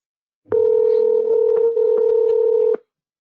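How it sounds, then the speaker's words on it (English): A cell phone call being placed on a Dialpad cloud phone system: a loud, close steady tone with short beeps and clicks interrupting it, starting abruptly and cutting off after about two seconds. "I'm going to take my own cell phone here and give that a ring"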